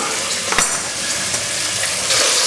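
Bacon lardons frying in a pot for a sausage casserole are stirred around. The sizzle is loud and continuous, with a brief scrape of the spoon early on.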